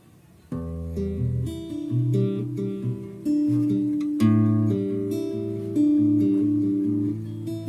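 A guitar plays the short melodic intro to a song, plucked notes over sustained chords, clear and close with no voices.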